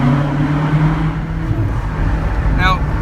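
Ferrari California engine and exhaust droning steadily inside a tunnel, a low, sustained note that stays loud throughout with a slight shift in pitch, and a brief voice near the end.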